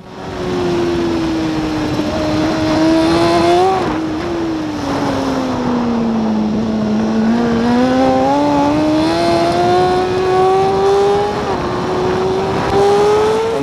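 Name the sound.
racing motorcycle lapping Portimao circuit, shifting up gears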